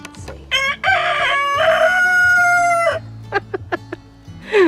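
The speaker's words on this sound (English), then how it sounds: "our rooster, he keeps crowing." A backyard rooster named Rambo crows loudly and close, one long drawn-out cock-a-doodle-doo followed by a few short clucks, with no talking over it.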